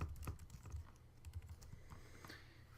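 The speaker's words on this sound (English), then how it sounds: "we're just going to type out, again, a random object" Keys on a computer keyboard being typed in an irregular run of soft, close clicks while code is entered, with no voices.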